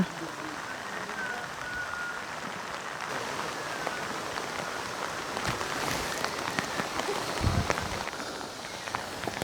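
Steady rain falls through the Malnad forest around Kavaledurga fort as a dense, even hiss on leaves and ground, with scattered louder drops and a few faint footstep-like knocks.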